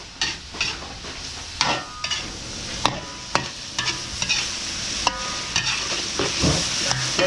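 Pancit canton noodles are stir-fried with soy sauce in a hot pan, a steady sizzle broken by repeated scraping strokes of a utensil against the pan, close and fairly loud.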